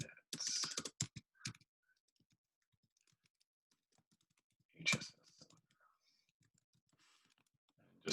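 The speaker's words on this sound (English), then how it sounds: "See how fast I can type 100 characters here." Rapid typing on a computer keyboard during a software demo, a dense burst of quick key clicks at the start, then a shorter flurry midway and a few more taps at the end, with quiet gaps between.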